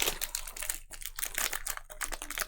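Trading cards for a Sorcery Arthurian Legends draft being shuffled by hand, with a steady run of close, crisp riffling and flicking clicks that pause briefly twice, with no voices.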